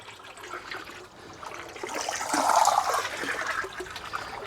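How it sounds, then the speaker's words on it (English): Aquaflavin treatment poured into a koi pond, a loud rushing, gurgling stream of liquid that swells midway and keeps flowing to the end. "just going to pour the aquaflavin in"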